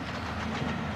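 Train running on rails, a steady rolling rumble with rhythmic wheel clatter, fairly faint and brief with no voices.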